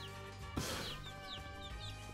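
A chick in the video game Guacamelee! chirping after being struck, a sharp hit followed by a few short, high descending peeps, soft against steady background game music.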